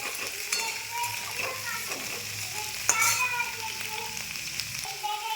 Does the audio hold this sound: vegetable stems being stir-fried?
yes